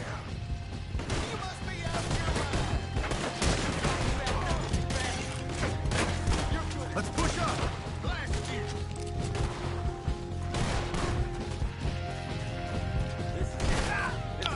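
Sustained gunfire from a shootout in Red Dead Redemption 2, loud and dense with repeated shots and crashes over a steady game soundscape.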